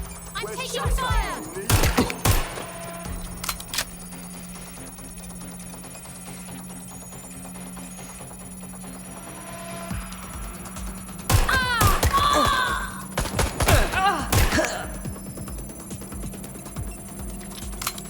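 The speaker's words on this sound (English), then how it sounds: "I'm taking fire!" Gunfire in the video game Watch Dogs Legion: loud bursts of rapid shots in two clusters with a long humming lull between, set against a steady electronic drone.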